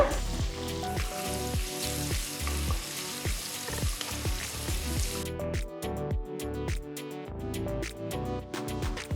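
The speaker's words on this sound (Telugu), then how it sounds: "రెండు టేబుల్ స్పూన్లంతా వెల్లుల్లి రెబ్బల్ని బాగా సన్నగా తరిగి అవి కూడా వేస్తున్నాను" Chopped garlic and dry red chilies frying in hot oil for a gongura meal maker curry, a steady loud sizzle and crackle running throughout with rhythmic low stirring thumps from a pan, no voices.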